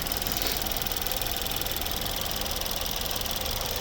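A 1.6 turbo petrol engine in a 2014 Ford Tourneo Connect idling steadily, a continuous close mechanical hum with a slight rhythmic knock, no voices.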